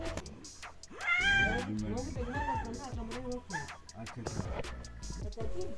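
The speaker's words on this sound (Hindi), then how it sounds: "ये कौन सी बिल्ली है?" A cat meows repeatedly at close range, drawn-out wavering cries rising and falling one after another, with people talking faintly in the background.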